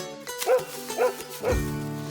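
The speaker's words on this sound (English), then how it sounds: "It's a dog." A dog barks three times at an even, quick rhythm, each bark short and clear, with a faint background hum.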